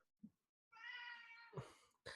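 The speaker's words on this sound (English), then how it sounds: "do you hear my cat giving his thoughtful contributions to the podcast?" A house cat lets out a drawn-out meow, followed by a couple of short chirping calls, faint and indoors with no talk over it.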